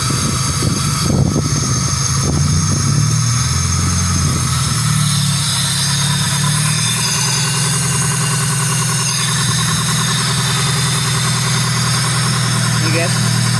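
A Honda Civic engine idles steadily and loudly with a constant low hum and vibration while the steering is turned, power steering just refitted; faint scraping and clicks sit near the start.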